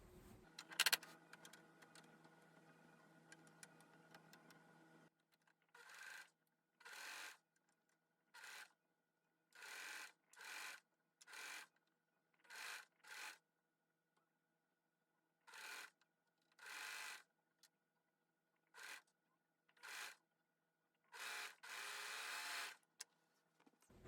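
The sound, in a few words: serger sewing knit fabric ruffles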